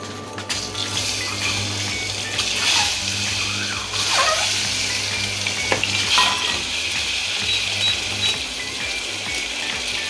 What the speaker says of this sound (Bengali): ডিমটা লাল করে ভেজে নেব